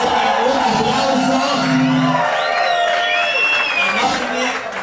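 A television studio audience cheers and claps for a new cast member, with whoops and raised voices. The crowd noise is steady and fairly loud, and people talk over it.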